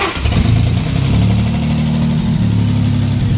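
A 1945 Jaguar MkIV engine catches and settles into a loud, close, steady idle with a deep, even rumble, alone without talk.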